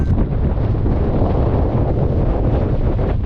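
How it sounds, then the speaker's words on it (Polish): Strong, steady wind roars and buffets the microphone on the snowy summit of Babia Góra, a dense continuous rush that fills the whole clip with no talk. "Trochę wieje."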